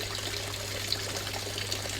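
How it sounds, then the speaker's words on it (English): Water from a 3000 liter per hour pump flows steadily into a grow bed tank in a backyard aquaponics setup, a constant close splashing rush with a low hum underneath and no voices. "It's a quick test on the water inflow."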